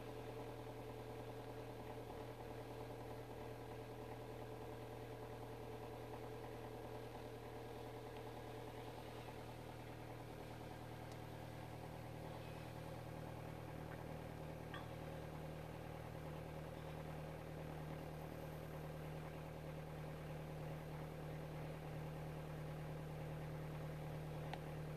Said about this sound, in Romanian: Lăsăm motorul să se încălzească până la temperatura normală.